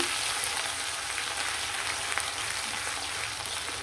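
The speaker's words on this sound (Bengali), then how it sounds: "সেই গরম তেলের মধ্যে পেঁয়াজ কিছু কিছু আর রসুন দিয়ে দিলাম" Onion and garlic dropped into hot oil crackle in a dense, even sizzle that fills the whole moment, close and fairly loud, with no voices.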